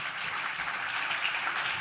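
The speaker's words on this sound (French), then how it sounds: "On peut applaudir encore une fois Thomas Braille qui est là au premier rang." Audience applause at an evening award ceremony for Thomas Braille, seated in the front row, a steady, even wash of clapping from the room with no voices.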